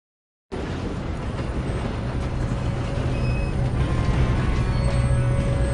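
A train rumbles along in a video game, a steady heavy roar that starts abruptly and grows slightly louder, with faint metallic squeals and tones over the mechanical drone.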